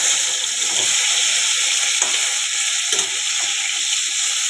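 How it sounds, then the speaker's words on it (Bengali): Food fries lightly in a pan with a loud, steady, close hiss of sizzling and a few faint clinks of stirring, and no talking. "এটা হালকা ফ্রাই করে নিব"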